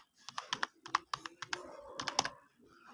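Quick keystrokes tap on a computer keyboard in an uneven burst, a dozen or so close clicks with a slightly heavier press near the end, quiet and alone.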